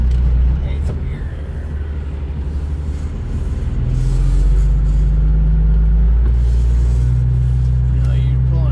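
A semi truck pulling a trailer uphill, its engine a loud deep rumbling drone inside the cab with a rising tone as it strains and shifts, and someone talking over it.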